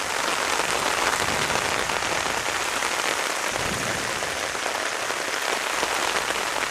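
Very heavy storm rain pours down steadily during an outdoor soccer match, a dense, loud, unbroken hiss of drops hitting the ground with no voices.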